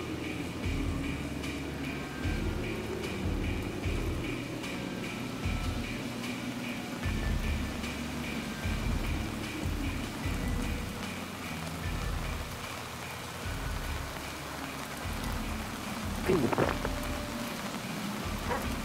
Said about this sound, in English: Oh, there's rain in the middle.